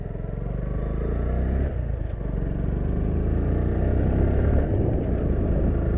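A Suzuki Gixxer SF motorcycle riding along a mountain road, its engine a loud, steady low drone with rumbling wind noise, close and continuous.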